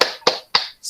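Hand claps for a classroom 'tepuk salut' cheer, three sharp close claps in a quick even rhythm, the last one starting just as the clip ends.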